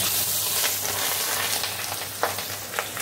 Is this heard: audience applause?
no